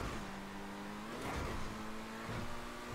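A car engine in the video game GTA 5 holds a steady droning hum, then revs up as the throttle opens, with the pitch shifting a couple of times over a brief, moderately quiet stretch.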